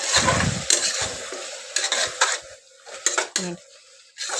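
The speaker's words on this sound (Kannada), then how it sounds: "ಇದನ್ನ ಹಾಕ್ಬಿಟ್ಟು ಚೆನ್ನಾಗಿ ಇವಾಗ ಮಿಕ್ಸ್ ಮಾಡ್ಕೊಳ್ಳೋಣ" Masala paste being stirred and mixed in a pan while cooking vegetable-free pulao, with loud metal scraping and clanking of a spoon against the pan, continuous then in short bursts, close up.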